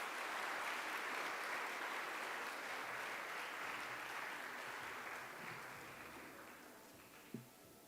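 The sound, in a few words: audience applause for conference presenters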